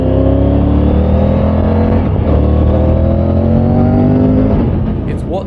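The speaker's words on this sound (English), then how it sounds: "In a sea of parallel twins, this is a 3-cylinder T-plane engine." A Triumph Tiger 900 three-cylinder T-plane adventure motorcycle engine revs loud and close, its pitch climbing steadily for several seconds before easing off and fading near the end.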